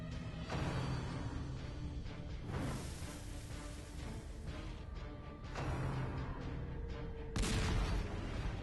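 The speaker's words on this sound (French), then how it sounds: "Et le canon va pouvoir tirer," A cannon fires in the Darkest Dungeon video game, several booming blasts spaced a few seconds apart over a dense layer of game music and ambience.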